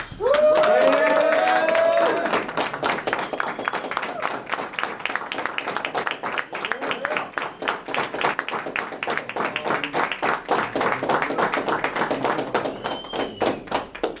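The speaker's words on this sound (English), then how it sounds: "give a big round of applause to Mr. Ash Angrish" A room full of people applauds a guest presenter at a business meeting, brisk crisp clapping with distinct individual hand claps, opening with a whoop and cheering before settling into steady applause.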